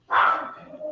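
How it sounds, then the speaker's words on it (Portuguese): A Pomeranian dog barks from under a table at its owner's feet, one sharp, close yap followed by a fading tail, heard alone. "até eu peço perdão pelo latido"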